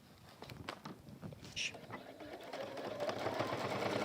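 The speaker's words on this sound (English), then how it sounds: "Now I would straight away go in and sew that down" A sewing machine stitches down part of a rivet-handled bag, a fast steady whirring run that builds and continues while someone talks over it.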